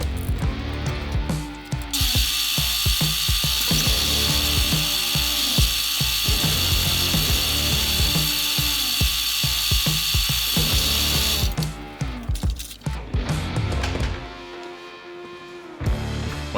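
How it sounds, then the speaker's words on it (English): Powered drilling into ivory through a template on a mosaic Damascus Bowie knife handle, a loud continuous whine holding steady for about ten seconds between bursts of mechanical clatter, then tapering off near the end. "use this as a template to drill into the ivory"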